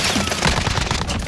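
A short, dense spell of rapid gunfire in a Call of Duty match, loud and continuous, with overlapping shots and no voices.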